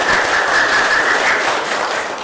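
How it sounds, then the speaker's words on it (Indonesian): Studio audience applause at an Indonesian talk show hosted by the Kendal district prosecutor's office, a steady, dense wash of clapping lasting a couple of seconds with no talk over it. "Tepuk tangan dulu."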